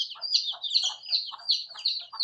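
Sindhi Aseel chickens with a rooster and young chicks, producing a steady run of high, rapid peeping chirps in repeated bursts, fairly close and clear with no talking.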